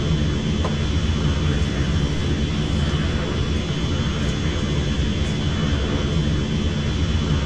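Steady, loud roar of an L39 Albatros jet engine in flight, heard from inside the cockpit with a constant whine and broadband rumble throughout, no voices.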